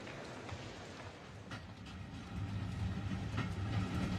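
A train running on a railroad gives a steady low rumble with faint rhythmic clatter that grows somewhat louder in the second half, with no voices.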